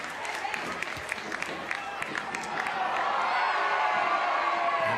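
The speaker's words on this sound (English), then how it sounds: "that's about as loud as we've heard the crowd at number 2 Sports Ground so far today as they protested the assistant referee's decision" A football stadium crowd at an A-League match between Newcastle Jets and Western Sydney Wanderers roars in protest at an assistant referee's decision, a dense, sustained wash of voices that swells louder toward the end.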